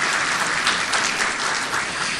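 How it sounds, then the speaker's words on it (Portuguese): Steady applause from a lecture audience welcoming an economics professor to a keynote talk, dense and continuous clapping with no voices over it. "Uma salva de palmas."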